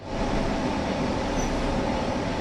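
Train running on the Ruhr Sieg Nord line in Train Sim World, a continuous loud rumble of wheels on track with a steady rolling roar and no pauses.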